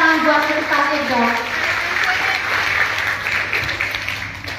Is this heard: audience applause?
yes